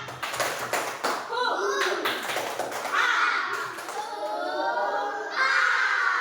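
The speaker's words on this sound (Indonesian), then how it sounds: "Tepuk semangat." A fifth-grade classroom of children performs a rhythmic spirit clap, with quick patterned claps at the start that give way to loud group chanting and shouting voices.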